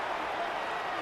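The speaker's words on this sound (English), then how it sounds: "This crowd turning up the decibel level" Stadium crowd roaring in a Madden 26 football game, a steady wash of cheering noise holding even and full throughout, with no distinct voices standing out.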